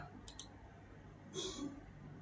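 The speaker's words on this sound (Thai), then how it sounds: "กดหนึ่งครั้งครับแล้วก็กด A ที่แป้นคีย์บอร์ด" A computer mouse click and a keyboard key press while drawing lines in design software, two quick faint clicks early then a brief clatter, quiet and isolated in a still room.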